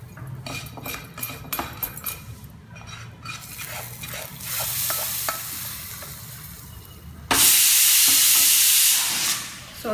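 Crackled mustard seeds and cumin in hot oil are poured into a simmering Gujarati curry: first stirring clinks and a soft sizzle, then a sudden loud hissing burst of the tempering hitting the liquid.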